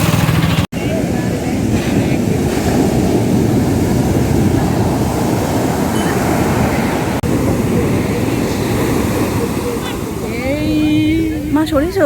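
Sea waves on Puri beach make a loud, continuous broadband roar of surf that fills the whole stretch, with people's voices rising briefly near the end.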